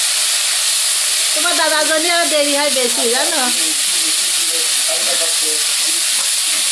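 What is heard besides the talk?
spices being sautéed in a pan after frying fish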